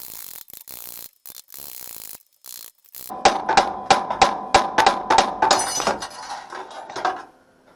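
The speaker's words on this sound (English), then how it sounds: "took about 5 minutes just to beat that little tack off" A tool hammers a small weld tack off metal with a quick series of around a dozen sharp ringing metallic blows, each close and loud, after a few earlier clicks and knocks.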